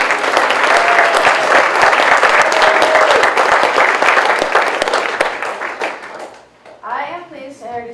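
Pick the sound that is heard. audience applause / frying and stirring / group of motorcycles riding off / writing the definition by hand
audience applause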